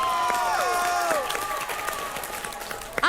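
Studio audience applause at a televised face-off competition show, heard as a steady wash of clapping mixed with swooping electronic tones and whoosh effects that end in a sharp hit.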